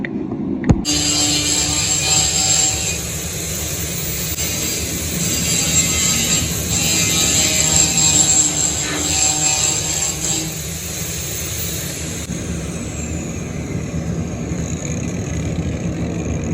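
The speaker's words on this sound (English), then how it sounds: "So I'm just gonna clean that up with a grinding wheel and tack this thing on." A grinding wheel works steel on a DIY welded dump truck project, a loud continuous whine with a high metallic ring that holds steady throughout, close and alone.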